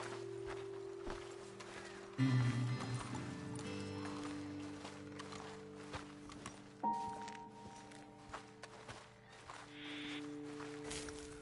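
Horses in Red Dead Redemption 2 step about on a ledge overlooking a road, soft irregular hoof thuds and footfalls under a low ambient drone, with occasional heavier knocks.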